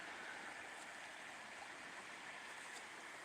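A flooded river rushing, a steady, dense roar of churning water heard from nearby, unbroken and without voices.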